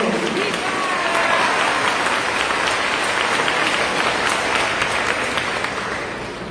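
Congregation clapping during a Sunday Advent Mass, a full, even round of applause that holds steady and tapers toward the end, with faint voices mixed in.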